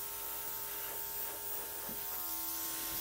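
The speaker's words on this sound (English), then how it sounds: "This is a cordless airbrush." A cordless airbrush blows air over the edges of wet paint on a pour painting, giving a steady, close-up motor buzz and hiss that holds evenly for about three seconds with no talking.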